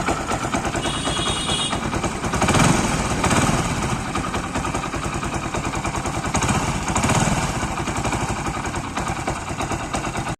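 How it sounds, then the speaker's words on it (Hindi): A 2008 Hero Splendor motorcycle engine, freshly refitted, idles close by with a rapid, rattling putter, swelling slightly in loudness a couple of times as it runs steadily. "गाड़ी को स्टार्ट कर दिए हैं। पूरा इंजन बांधने के बाद में इसकी साउंड सुन लीजिएगा।"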